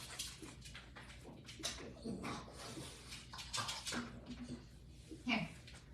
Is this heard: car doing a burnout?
no